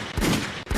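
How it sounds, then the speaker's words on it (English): Two booming gunshot sound effects, close and loud, each a sharp burst with a short rumbling tail, the second following about half a second after the first. "Sucio gunshots."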